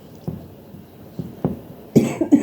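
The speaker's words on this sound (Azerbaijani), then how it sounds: "öskürəyim getmir xəstələnəndən beri" A woman coughs several times, a few separate dry coughs spaced apart followed by a louder cluster of coughs close to the microphone.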